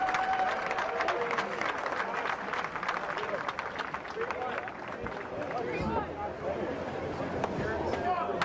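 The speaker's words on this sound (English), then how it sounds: "Round of applause for your consolation finalist in the 50 freestyle." A crowd at the 2011 ConocoPhillips National Swimming Championship applauds the consolation finalists in the 50 freestyle, a dense wash of clapping and cheering under an announcer's voice over the pool.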